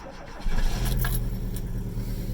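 A Volkswagen Vanagon Carat's engine cranks and catches, then settles into a steady, close idle for a couple of seconds with no voices.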